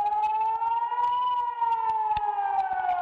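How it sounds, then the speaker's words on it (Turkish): A siren wails in Tel Aviv after a rocket strike. The steady, loud tone rises and falls slowly, with faint background noise beneath it. "Şehirde ambulans ve siren sesleri yükseldi."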